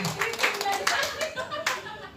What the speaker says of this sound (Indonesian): Jadi sekali lagi tepuk tangan untuk kelompok 1.